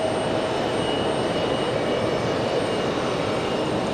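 An ATR turboprop on runway 23 left at Raleigh-Durham airport gives off a steady, moderately loud broadband roar with a faint tonal hum, holding even throughout without talk.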